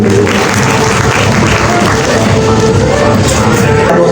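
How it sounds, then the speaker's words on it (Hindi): An audience at a live hair-cutting showcase event claps and cheers in a loud, continuous roar of applause and crowd noise that fills the whole stretch without pause. "माया जी के लिए जोरदार ताली हमारे खान के लिए"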